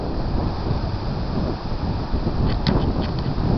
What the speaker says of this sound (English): It's not raining, it's just wind.